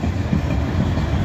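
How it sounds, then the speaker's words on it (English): A long, slow freight train rolls through Abbeville, giving a steady low rumble of rail cars without break, close and fairly loud with no voices. "It is a big, long train"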